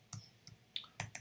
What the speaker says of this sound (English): So I typed in waffle.